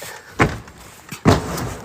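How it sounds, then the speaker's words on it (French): A door swings open with two distinct broadband bursts, a short clunk and then a louder thud about a second later, close by and with no talk over it. "Et voilà, la porte, elle s'ouvre, tu vois."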